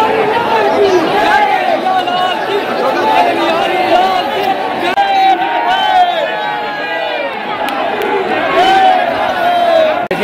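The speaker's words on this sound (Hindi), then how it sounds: "ये भीड़ कितनी है बरसाना राधा रानी मंदिर टेम्पल पे।" Huge crowds of devotees at the Barsana Radha Rani temple celebrate Laddumar Holi, filling the air with steady loud chatter, shouts and cries from many people close by.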